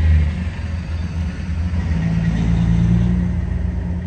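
Continuous, loud road rumble of traffic and trucks on the Trans-Canada Highway, a steady wash of engine and tyre noise heard from close by.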